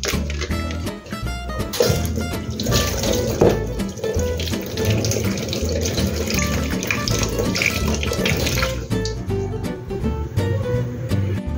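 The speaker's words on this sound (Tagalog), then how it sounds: "atin munang hugasan po ang ating tokwa" Tap water runs continuously into a sink while tofu is washed under it, a steady close splashing stream with small shifts as the block is handled, no talking.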